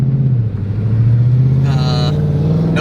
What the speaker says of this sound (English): Just real muscle car sound to it.